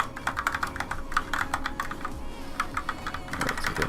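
Rapid typing on a new computer keyboard, close and crisp, with irregular bursts of clacking keystrokes over a low background hum, no talking.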